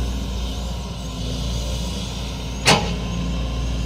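A SANY SY215C excavator is stuck on a steep slope, its engine droning steadily and close at a strained, constant load, with a brief sharp mechanical burst partway through.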